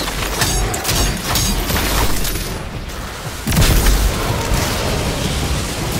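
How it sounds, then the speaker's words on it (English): A grenade detonating in the Destiny 2 shooter amid ongoing gunfire, heard as a loud booming burst midway through a dense, noisy combat soundscape. "Throw in my grenade."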